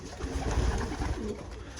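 Racing pigeons coo softly in a loft, a steady close murmur of low throaty calls that carries on continuously, with no talking.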